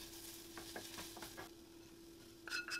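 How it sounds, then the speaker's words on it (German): Spoon stirring powdered sugar into browned flour in a pot, giving soft intermittent scraping strokes over a steady low stovetop hum, with brighter clinks near the end. "Dann in den Topf den Puderzucker hinzugeben. Das Ganze gut verrühren."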